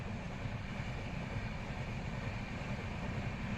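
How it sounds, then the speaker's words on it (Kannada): A train passes near a railway track on the road toward Ghati, giving a continuous, even, droning rumble heard from close by with no voices. "2 ಟ್ರೈನ್ ಪಾಸ್ ಆಯಿತು ಸ್ನೇಹಿತರೆ"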